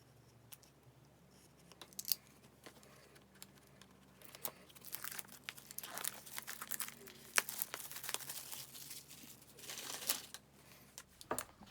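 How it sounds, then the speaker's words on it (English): Plastic wrap being peeled and crinkled off a boxed tarot card deck, giving close, quiet crackling and tearing rustles that come in irregular bursts and grow busier toward the end. "So I haven't even taken the plastic off. Let's do that first."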